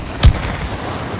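A single gunshot blast in the video game It Takes Two fires at a wasp, one short booming burst near the start over a steady low game ambience.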